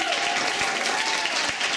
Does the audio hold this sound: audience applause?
yes